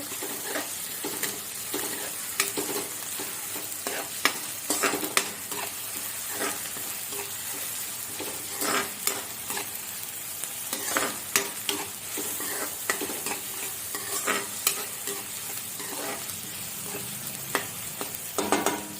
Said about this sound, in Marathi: कांदा थोडा लालसर होऊ दे चांगला